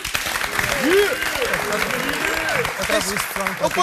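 Studio audience applause on the Angolan TV show Hora Quente, steady clapping running underneath while a person talks over it with rising, animated speech.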